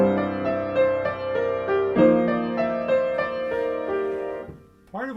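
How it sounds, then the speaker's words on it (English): Piano plays a melody with the sustain pedal held down, notes ringing into each other in a continuous, resonant wash over about five seconds, ending with a brief bright flourish. "The piano is playing our melody,"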